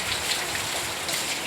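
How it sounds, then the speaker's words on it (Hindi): Steady, dense rain falls on a rooftop after two days of continuous downpour, a constant hiss of drops with no talking. "2 दिन से लगातार बारिश होता, पूरा छत पे पानी आवता है"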